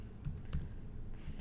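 Brief, quiet typing on a computer keyboard, a few scattered key taps heard close up with no voice over them.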